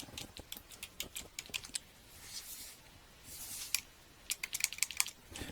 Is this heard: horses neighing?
no